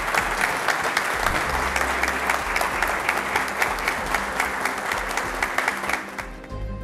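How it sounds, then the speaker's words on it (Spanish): A crowd at a community security council meeting claps loudly and steadily for the police, producing a dense wash of overlapping claps that ends abruptly near the finish. "Yo quiero que le den un fuerte aplauso de verdad a la policía nuestra."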